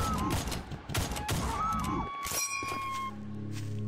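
Rapid bursts of gunfire from shooting enemies in the video game Mohrta, loud and dense for about two seconds, then giving way to ringing tones and a steady hum.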